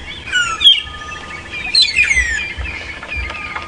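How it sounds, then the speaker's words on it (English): Magpie shrikes calling at sunrise in the African bush, a series of clear whistled and chirping cries from nearby birds, loud and repeated over low background rumble, with no talking. "You can hear the magpie shrikes with their very heartbreaking cry"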